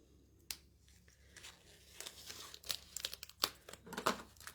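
Plastic packaging of a card-making kit being opened, with crisp crinkling and tearing bursts that build from sparse rustles into a busier flurry of close handling noise.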